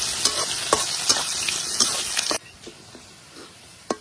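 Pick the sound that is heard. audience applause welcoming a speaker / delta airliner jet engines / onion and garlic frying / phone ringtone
onion and garlic frying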